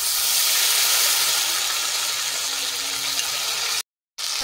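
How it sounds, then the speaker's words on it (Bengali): Ginger paste spits and splatters in hot oil with dried chillies, cardamom and nigella seeds, giving a loud, steady, close hiss with no talking, then breaking off briefly near the end. "আদাটা ঠিক চারদিকে ছিটকাচ্ছে"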